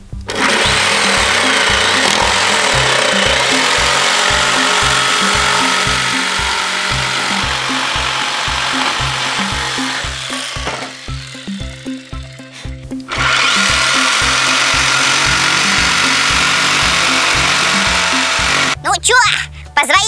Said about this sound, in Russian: Это называется электролобзик